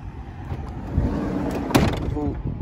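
Sliding side door of a 2015 Toyota Tarago GLI van rolls and latches with a sharp thud about midway, followed by a brief mechanical rattle, all over steady outdoor background noise.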